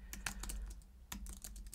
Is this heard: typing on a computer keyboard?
yes